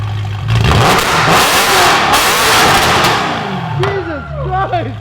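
A BMW E90 M3 fitted with a full titanium exhaust revs hard with its exhaust valves open, a loud close roar building and sustaining before dropping off, followed by crackles and pops as it settles.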